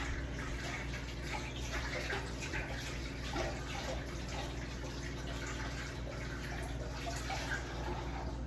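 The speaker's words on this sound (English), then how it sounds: "Wash my hands, y'all. Soap and water, soap and water." Steady tap water runs continuously into a sink while hands are washed with soap in a home kitchen during Sunday dinner cooking, a constant even splashing hiss with no pauses.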